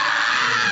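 A sustained, strained anime scream from the character Armin, loud and steady from start to finish with no break.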